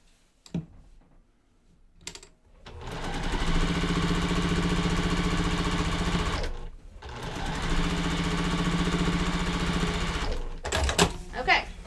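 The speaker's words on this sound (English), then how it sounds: "I'm going to sew that block to that bottom row" A sewing machine stitches a fabric quilt block with two long, steady runs of loud mechanical whirring and chattering, broken by a short pause and preceded and followed by brief handling clicks.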